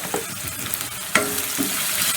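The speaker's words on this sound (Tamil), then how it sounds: "வெங்காயம் வதங்கட்டும்" Onions sizzle steadily in hot oil in a pan, seasoned with turmeric and salt, with a few faint stirring scrapes over the close, low frying hiss.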